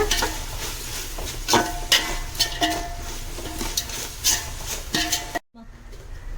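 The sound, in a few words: stirring sautéing onions with ginger garlic paste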